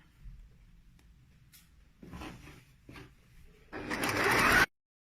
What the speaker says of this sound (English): Little back stitch and then just go all the way around.